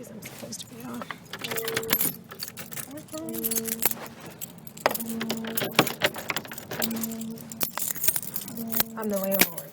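A set of house keys jangling during a property inspection, bright metallic clinks in repeated bursts over several seconds, with a car and voices in the background.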